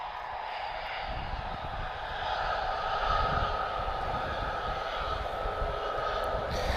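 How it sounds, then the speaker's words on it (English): A Gulfstream V business jet engine roars steadily and loudly at Lisbon Airport, a broad sustained rumble with a rising whine that swells slightly midway, no voices. "This is a Gulfstream 5. Should be nice and loud."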